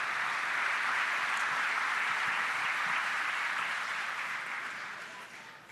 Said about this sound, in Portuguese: Então dá mais um aplauso pela vida dele, por favor.